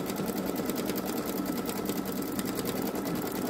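A Babylock Solaris Vision embroidery machine stitches at speed, giving a fast, steady mechanical whir and rapid needle clatter, close and continuous.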